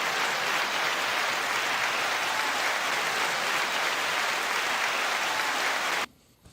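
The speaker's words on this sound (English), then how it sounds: "9-second applause to your friend" Audience applause after a podcast host's call for a round of clapping, a dense steady wash of claps holding loud for about six seconds before cutting off abruptly into near silence.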